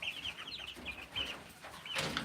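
Incubated chicks about three weeks old peep in a 3-layer brooder, giving a run of high, chirping cheeps close by at moderate loudness, with brief pauses between bursts.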